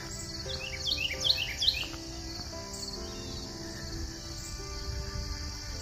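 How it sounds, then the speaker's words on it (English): Birds singing outdoors on a fine morning, with a short burst of quick high chirps early on, moderately faint over a steady insect-like hiss. No one speaks. "But the birds are out."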